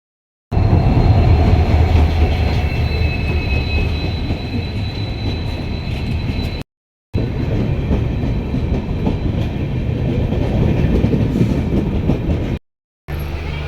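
A train rolls past close by, a loud steady rumble with rattling wagons, clattering wheels and high squeals, broken by two short gaps.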